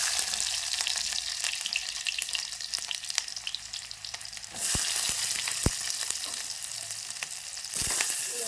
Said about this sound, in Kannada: ಈಗ ನೋಡ್ರಿ ಎಣ್ಣೆ ಬಿಸಿ ಆಗ್ಯದ ಸಾಸ್ವಿನೂ ಚಟಪಟ ಅಂತ ಸಿಡಿಗತ್ತವ್ರಿ